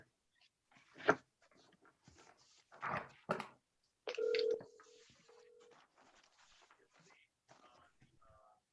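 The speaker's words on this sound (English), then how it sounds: "Just call her and let's put her on speakerphone." A telephone is dialed to set up a speakerphone call, with a few short tone beeps and a sustained tone amid quiet shuffling and brief speech nearby.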